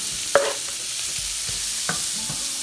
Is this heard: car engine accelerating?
no